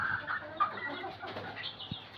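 Desi chickens, a rooster and a hen, on a poultry farm, clucking and calling nearby with a brief flutter of wings and a few scuffs from the pen.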